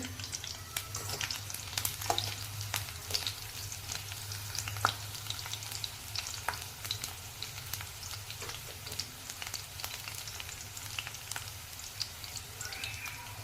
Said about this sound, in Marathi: थोडासा असा फ्राय करायचा आहे